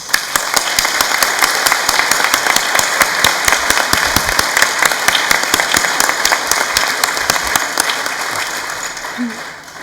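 Loud, sustained applause from a large audience at a college graduation ceremony, dense clapping filling the whole stretch without a break before easing slightly at the end.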